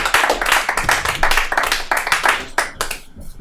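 A comedy club audience claps hard and steadily after a comedian finishes his set, a dense loud burst that thins to a few scattered claps before fading out.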